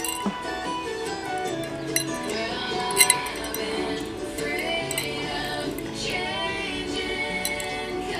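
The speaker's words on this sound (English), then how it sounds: "You're stirring the egg?" A spoon clinks against a cup of dye as a child stirs an Easter egg, light bright taps scattered over a steady background hum.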